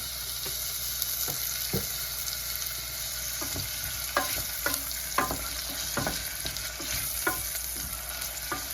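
Onions fry in olive oil in a pan, a steady close sizzle broken by repeated scraping stirs.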